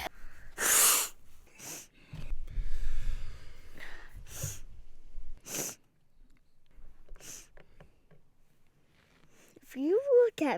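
A person sniffles several times: short, sharp breathy snorts close to the mic, spread across the stretch with quiet gaps and brief murmuring voices in between.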